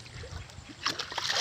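Water poured and splashing into a bucket meant for freshly caught tilapia, a close, uneven sloshing and trickling that grows louder in the second half, with no talk over it.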